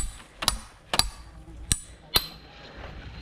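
Four sharp, separate knocks of a hammer driving wooden pegs into a tree trunk, spaced about half a second apart, close and loud against a quiet outdoor background.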